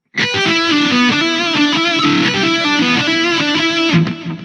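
An electric guitar plays a riff as a steady, dense run of picked notes with distortion and effects, loud and continuous throughout with no talking.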